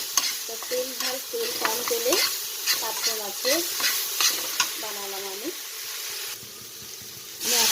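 Parshe fish being fried in a little oil with tomato, green chilli and nigella seeds, giving a close, steady sizzle broken up by scraping stir strokes. Talk can be heard faintly over the cooking.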